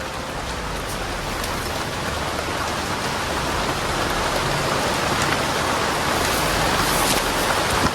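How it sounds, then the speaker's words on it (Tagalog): Heavy rain pours down in a dense, steady roar with the patter of drops striking surfaces, loud and unbroken throughout, with no voices over it. "Lakas ng ulan."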